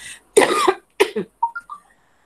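A single sharp cough, then a couple of shorter coughs and a throat-clearing sound, close and fairly loud with no talking.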